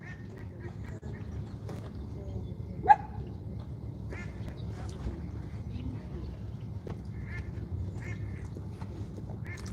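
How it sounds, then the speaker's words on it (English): A duck quacks a few times at moderate distance outdoors near a boat, with a sharp brief call standing out over a steady low background hum and scattered faint noises. "Oh, I hear a duck."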